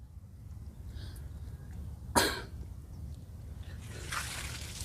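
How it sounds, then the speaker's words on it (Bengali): A single short cough breaks out close by in a quiet outdoor village setting, standing alone over a low background rumble and faint rustling. "আবার এই কাশি কে?"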